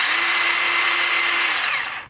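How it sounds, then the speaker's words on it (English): A mini chainsaw runs at a steady high-pitched whine with a buzzing motor drone, loud and close, then cuts off abruptly at the end. "it's obviously going to be like a regular chainsaw, so you want to hold it like this and ooh, smooth"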